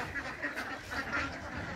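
Ducks quack repeatedly at a duck farm with a swimming pool, a faint, somewhat distant cluster of calls in a quiet, airy space, with no talking over them.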